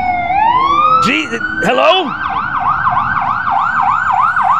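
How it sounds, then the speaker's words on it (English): A wailing emergency vehicle siren sweeps up and then settles into a steady, rapidly rising and falling yelp, loud and close, with a brief spoken greeting over it near the start. "Oh, you hear that siren?"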